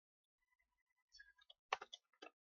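Keys clack on a computer keyboard in a quiet room, a faint scatter of soft taps that builds into a quick burst of sharper clicks near the end.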